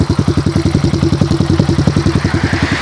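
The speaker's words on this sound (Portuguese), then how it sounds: "Então esse é o barulho dela em marcha lenta." Yamaha Fazer 150 (2016) motorcycle with a new aluminium aftermarket exhaust idling up close, a steady loud rhythmic putter of evenly spaced pulses.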